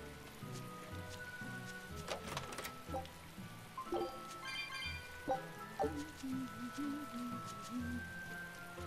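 Steady rain patters in the Tales of Berseria video game, a constant wash under soft musical tones and other game sounds. It is faint and continuous, with no voices.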